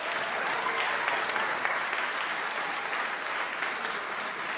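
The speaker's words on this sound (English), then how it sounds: "Not a deserved clap break." A studio audience breaks into continuous, even applause during a George Carlin-style comedy set generated by AI, heard as a full, steady clap wash with no speech over it.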